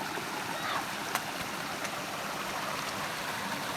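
A small stream in Nepal runs and splashes in a continuous broadband rush, close and even, with a couple of faint clicks on top.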